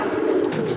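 Pigeons cooing up close, a continuous low, soft coo from a pair of flying pigeons at a Mumbai pigeon keeper's loft, with no voices.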